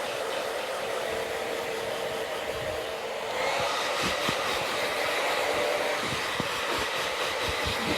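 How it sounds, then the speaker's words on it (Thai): A hair dryer blowing steadily as a stylist dries an elderly client's short layered hair in a salon, loud close whooshing that steps up in intensity partway through. "เป่าผมพอแห้งนะคะ เป่าให้ผมแห้งเลยค่ะ"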